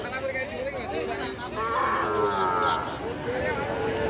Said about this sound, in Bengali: অসংখ্য গুণগত জাতমান কোয়ালিটির ষাঁড় বাছুর গরুগুলি হাটে উঠে থাকে।